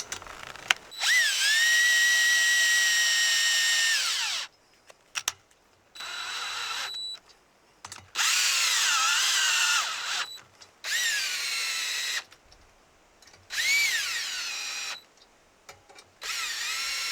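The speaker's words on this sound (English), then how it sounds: "Okay, I gotta go find my drill." A power drill drives fasteners for end caps on a balcony railing, heard in about six close, whining bursts of a few seconds each, with quiet gaps between them and the pitch shifting within each run.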